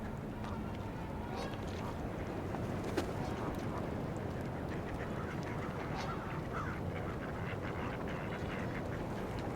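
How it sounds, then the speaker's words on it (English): Male mallard ducks fighting at a rocky lakeshore, with dense, continuous splashing and scuffling and muffled quacks, under a steady wash of water and other waterfowl noise; trumpeter swans and geese are nearby. "A couple male mallards fighting right now."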